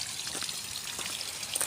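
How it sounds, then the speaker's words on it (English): Water from a submersible pump trickles and splashes steadily over a new quartz pond waterfall, a soft continuous close-up flow with no voices. "So coming in all the way up to the waterfall"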